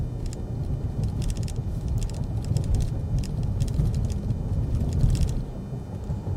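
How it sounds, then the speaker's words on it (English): Cabin of a 2024 Kia Telluride Prestige X-Pro driving on bumpy public roads: a steady low road rumble with light rattling and clicking taps in irregular clusters, and no voices. "let's take it for a drive. On the public bumpy roads, how does it ride?"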